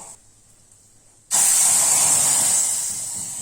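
Ghee tempering of mustard seeds, cumin, red chilli, pepper-cumin powder and curry leaves poured into pineapple rasam gives a sudden loud hiss that starts abruptly, then holds steady and slowly fades, alone without talk.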